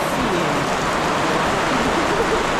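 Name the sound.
rain shower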